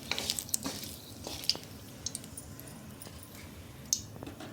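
Cinnamon, cloves and cardamom are stirred in hot oil in a pan while cooking chicken kofta, giving a soft, steady sizzle with scattered light clicks and scrapes of the spoon. No one speaks.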